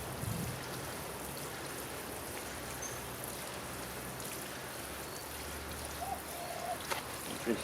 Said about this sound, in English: I'm just going to water this one in first of all.